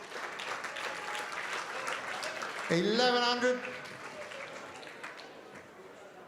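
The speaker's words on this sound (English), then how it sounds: "Give him a round of applause." Applause rises from the crowd at a boxing fight night charity auction in a grand hotel ballroom, continuing through the clip as an auctioneer's voice calls out over the clapping.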